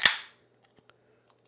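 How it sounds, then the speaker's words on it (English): A single sharp pop as a can of Belching Beaver Brewery beer, a Neapolitan imperial milk stout, is opened, followed by a few faint clicks and fizzing ticks in an otherwise quiet room. "But let's pop this beer first."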